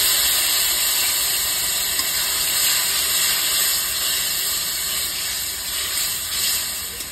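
Water poured into a hot pan while cooking a fish and eggplant curry, giving a steady, loud sizzling hiss that holds for several seconds with no talking.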